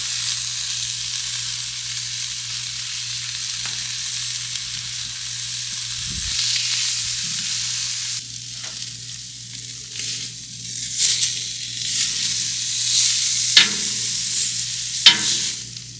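Steak sizzles on a Blackstone griddle in a bright, continuous hiss, with a spatula scraping and tapping now and then as the meat is flipped, the sizzle swelling louder toward the end.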